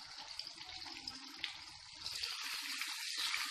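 Stuffed ridge gourd (bharwa turai) dropped into hot oil in a pan gives a steady, hissing sizzle that swells louder after a moment and keeps going, with no talking.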